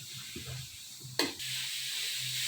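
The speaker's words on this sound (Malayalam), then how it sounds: "ഇഞ്ചി വെളുത്തുള്ളിയും രണ്ട് കൊച്ചുള്ളിയും കൂടെ അരച്ച പേസ്റ്റ് ഇത്രയും കൂടെ ഇതിലോട്ട് ചേർത്തിട്ട് നന്നായിട്ട് വഴറ്റുക" Ginger, garlic and two shallots ground into a paste are added to a hot pan for chicken curry, setting off a sharp burst of sizzle that settles into a steady close hiss.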